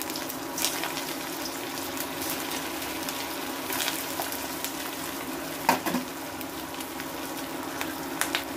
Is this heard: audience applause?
no